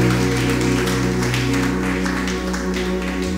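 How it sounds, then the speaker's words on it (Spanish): A church congregation claps in steady applause during a Spanish-language worship service, the broad clatter laid over sustained instrumental tones and continuing evenly throughout. "Dale ese mejor aplauso al Rey."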